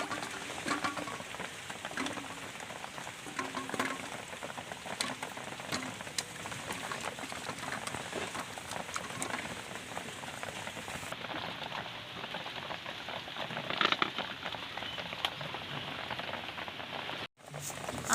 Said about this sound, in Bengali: আমলকিগুলো ভালো করে ধুয়ে নেব।